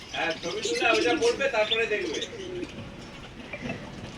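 A bird market holds many caged birds and pigeons. Coos, chirps and calls overlap close by for a few seconds, then fade to quieter background chatter.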